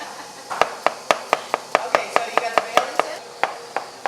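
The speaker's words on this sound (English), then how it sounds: "Let's chop up some more cucumber." A knife chops cucumber on a cutting board in a quick, steady run of about fifteen sharp, close knocks, without talk.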